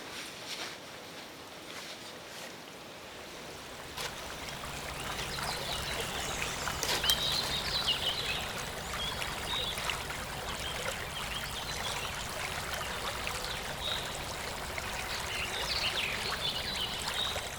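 A river stream flows steadily, a continuous broadband rush and trickle of water that swells slightly after a few seconds and holds close and even throughout, with no voices.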